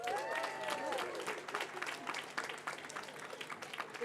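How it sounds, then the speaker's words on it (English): Applause from a graduation ceremony crowd, dense steady clapping throughout with a brief tonal sound early on, fairly distant and even in level. "Big round of applause there."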